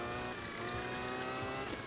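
Williams race car engine in a Suzuka racing video game, a steady loud droning whine held throughout with no talk over it.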